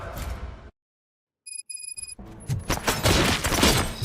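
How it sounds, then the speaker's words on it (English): Dense video-game gunfire in RoboCop: Rogue City, a loud burst of shots and impacts that cuts to silence, then a few tonal electronic beeps before heavy, sustained firing and crashes build back up. "Gunshots? What's going on?"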